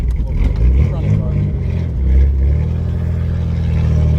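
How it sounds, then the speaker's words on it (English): An old car abandoned for 15 years pulls out of a driveway with its exhaust scraping, a rough low engine rumble and grinding drag up close, with people talking over it. "Our exhaust is scraping."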